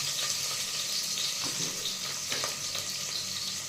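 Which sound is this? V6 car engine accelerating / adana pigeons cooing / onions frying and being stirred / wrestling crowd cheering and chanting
onions frying and being stirred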